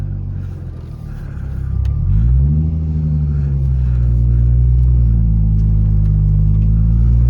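A right-hand drive Toyota Supra drives with a loud, steady engine drone that deepens as it pulls away and then holds an even rumble, with no talking.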